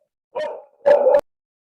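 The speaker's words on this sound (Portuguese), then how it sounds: "Meus cachorros aqui pararam, começou outro." A dog barks twice in quick succession, close and loud, each bark a short raspy burst with silence around them.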